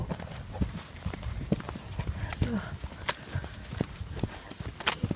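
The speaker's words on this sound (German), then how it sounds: "Die Pferd wegbringen." A horse walks outdoors, its hooves clip-clopping in an uneven, close rhythm while people talk over it; earlier there is mention of a thunderstorm.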